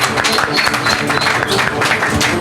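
Steady, loud applause from a studio show audience, dense clapping that fills the whole stretch without pause, with some crowd noise mixed in.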